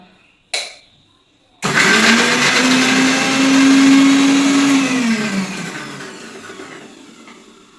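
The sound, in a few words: mixer grinder chopping mango, chili and ginger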